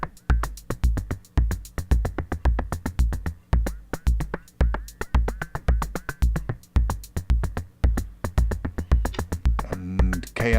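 A modular synthesizer patch plays a Euclidean rhythm against an odd clock division: dense, clipped percussive pulses in an uneven repeating pattern, fairly quiet, with a brief tonal flourish near the end.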